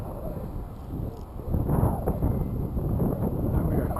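Crosswind buffets the microphone while an RC plane fitted with landing gear flies, a low, gusty rumble that starts moderate and swells louder partway through, continuing as an uneven roar.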